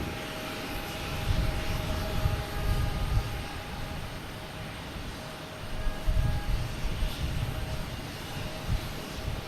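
A passing jet at Boston Logan Airport, either an American Airlines Embraer 175 or a United 737: a low rumbling roar swells twice as it passes, with faint whining tones above, heard from some distance without voices.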